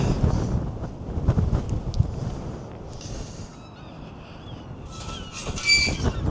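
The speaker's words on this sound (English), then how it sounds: "it is so windy out here on the coast. The wind is really blowing." Strong coastal wind on the Gower coast of Wales roars and buffets a microphone in a steady, rumbling rush, with gusts swelling and easing and faint higher chirps near the end.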